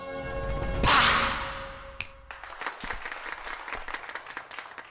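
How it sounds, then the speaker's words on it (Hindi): A group of people clap happily, bursting into brief applause after a whooshing swell, then scattered claps continuing at moderate distance. "वो खुश होकर तालियां बजा रहे हैं।"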